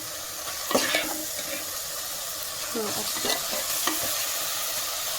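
Mutton keema stirred and frying in a pan, with a soft steady sizzle broken by a few scraping stirs of a spoon, close by and moderately quiet, with a brief word spoken.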